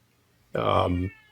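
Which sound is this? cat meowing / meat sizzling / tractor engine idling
cat meowing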